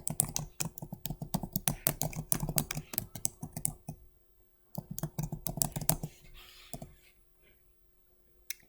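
Computer keyboard typing comes in quick, close bursts of clicks that pause around the middle, start again, and then trail off into a few scattered keystrokes.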